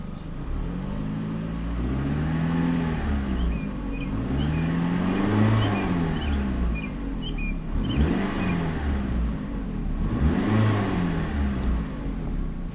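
A 2006 Chrysler PT Cruiser engine revs repeatedly, four rising-and-falling surges of a mid-pitched motor at steady intervals, heard up close with a constant idle hum between revs.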